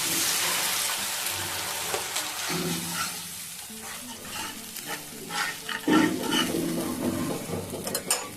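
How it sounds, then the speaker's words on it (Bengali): Warm water poured into a hot pan of fish curry sets off a steady, loud sizzle and bubbling hiss, with stirring scrapes throughout and a brief surge near the end, close up. "এখন দিয়ে দেবো আমি একটু উষ্ণ গরম জল।"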